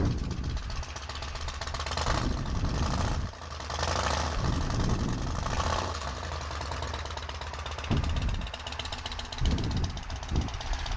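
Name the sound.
cruiser motorcycle engine idling, aftermarket exhaust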